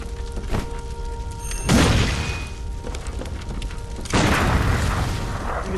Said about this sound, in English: it's like a hand cannon